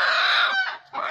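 Domestic desi chickens on a small farm give a loud, close, drawn-out squawking cackle, breaking off and then starting again, with no talking.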